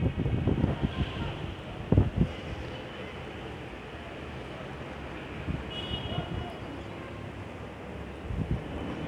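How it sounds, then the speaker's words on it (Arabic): Strong wind buffets the microphone outdoors on a cold, rainy day on the Mediterranean coast at Marsa Matruh, a continuous low roar with heavy gusts near the start and the end. "طبعا الجو ساقع جدا، هوا شديد."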